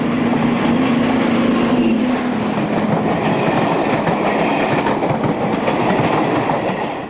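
A British Rail Class 55 Deltic diesel locomotive hauls a passenger train past, a loud, continuous roar of engine and rolling wheels with steady rail rumble throughout.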